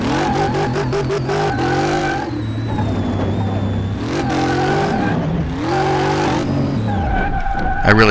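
A car in Car Mechanic Simulator 2018 revs hard through gear shifts while its tires squeal and skid, loud and continuous engine drone rising and falling across the run with no talk.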